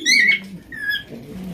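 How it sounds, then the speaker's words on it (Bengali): Red checker racing pigeons coo in low, soft bursts at close range, mixed with a few higher chirping calls. "এখানে রয়েছে হাই কোয়ালিটির একজন রেসারের কালেকশন দেখতে পাচ্ছেন, রেড চেকার রেসার কবুতর"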